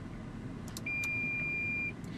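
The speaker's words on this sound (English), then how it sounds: "you see that beeping noise? That's the noise it actually make if you get close to something" A 2015 Toyota 4Runner's parking sensor gives a steady electronic beep tone for about a second over a low vehicle rumble, with brief faint clicks around it.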